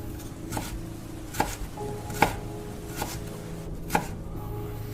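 Knife chopping vegetables on a wooden board in a dark kitchen at night, five or six sharp distinct knocks at an uneven pace over a quiet background hum.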